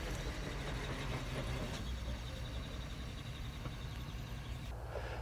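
A 1953 Bentley R-Type Continental Fastback accelerates, its engine a steady broad rumble heard from inside the car, holding strong throughout before easing off at the end.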